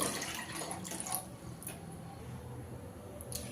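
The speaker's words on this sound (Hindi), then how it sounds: "अब इसी में हम डालेंगे 2 कटोरी पानी।" Water poured into a kadhai on the stove while making Bihari tisi ka pitha, a steady splashing pour that fades to a softer trickle, close and without talk.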